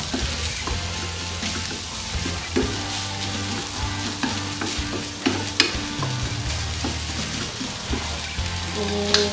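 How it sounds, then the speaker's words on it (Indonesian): Nasi goreng, fried rice, sizzles steadily in a hot pan while a utensil stirs and scrapes it with irregular close knocks, and no one talks over it. "Dan kita aduk."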